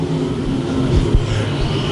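Modified stock car engines roar past on a dirt speedway oval, a loud, droning rumble with a quick surge as a car passes close by.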